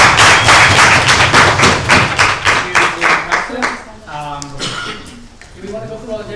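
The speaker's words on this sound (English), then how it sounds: "I'd like a large round of applause to both sides" Applause from a youth debate semifinal audience for both teams, a fairly loud burst of clapping in the opening seconds that thins out as voices begin talking over it.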